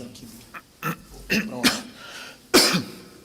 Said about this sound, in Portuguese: Essa tosse está braba